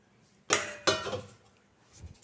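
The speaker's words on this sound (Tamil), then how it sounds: "நான் தண்ணியை வடிகட்டுறதுக்கு இந்த மாதிரி ஒரு ஸ்ட்ரெயினர் தான் யூஸ் பண்ணுறேன்." Soaked ragi semiya tipped into a metal strainer, giving two sharp close clanks of metal a beat apart, each trailing into a brief splash and rattle of draining water, then near quiet.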